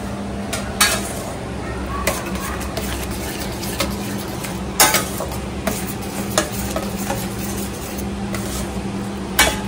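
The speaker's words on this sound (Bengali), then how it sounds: "জমিয়ে ডাল রান্না করছে বাবারে" Mixed dal of lentils cooks in a pot with a close stir-and-sizzle, broken up by occasional sharp clinks of a utensil against metal and a faint voice now and then.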